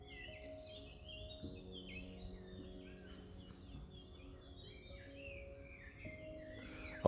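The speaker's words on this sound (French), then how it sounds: "on va laisser le chantonner, gazouiller les oiseaux derrière moi" Birds chirp and sing in a park, with scattered high calls over a quiet, faint background. No voices.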